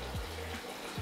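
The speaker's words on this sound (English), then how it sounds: "Let me draw you your bath in your Native Trails concrete tub." Water pours steadily into a Native Trails concrete tub in an enclosed outdoor bathing space, a continuous close rushing fill with a couple of low thumps.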